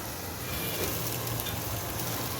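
Malabar spinach dropped into lentils frying in a pan, producing a loud, continuous, dense sizzle that holds steady throughout with faint stirring scrapes.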